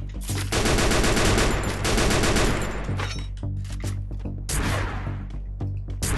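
Rapid bursts of automatic gunfire from MP40 and M60 weapons in a shooter video game, loud and sustained volleys with brief gaps, dense crackling fire filling the scene without talk.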